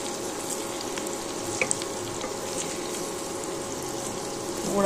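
Dahi vada batter frying in oil over low-to-medium heat, a steady soft sizzle with a couple of brief clicks and a slight rise at the end.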